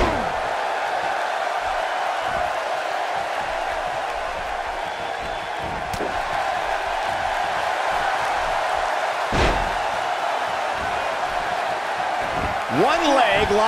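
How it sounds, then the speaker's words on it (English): A Tokyo crowd at a WWE wrestling match between two tag teams keeps up a steady, roaring wall of cheering, with a commentator talking over it and a couple of sharp thuds cutting through. "just listen to this Tokyo crowd"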